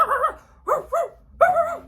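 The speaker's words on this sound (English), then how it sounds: "You open your front door, the dog is barking." A dog barks three times in quick succession, loud and close, with short gaps between the barks and no talking.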